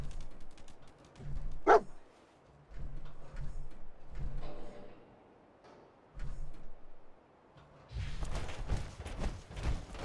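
In Fallout 4, the dog Dogmeat barks in short, moderately distant bursts spread across several seconds, over low rumbling game ambience with quieter gaps between.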